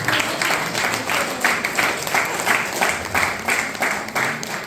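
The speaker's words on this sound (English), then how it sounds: "Claps for Queen Esther" An audience at a church meeting claps in a steady, dense round of applause that holds evenly for several seconds, with a faint rhythmic pulse to the clapping.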